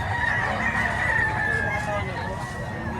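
A rooster crows in a drawn-out call over a busy, noisy background with clucking fowl nearby, at a chicken market.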